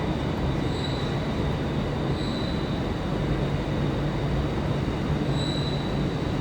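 A class 397 train departs Glasgow Central with a steady, loud rolling roar and faint repeated wheel squeals, heard close without any talking.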